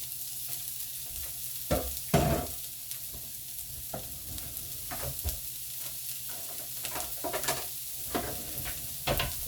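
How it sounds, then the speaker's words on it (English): Steady crackling sizzle of oil in a hot pan, with a few louder scrapes and stirring clatters breaking through at irregular moments. "You can hear that sizzle straight away, which is lovely."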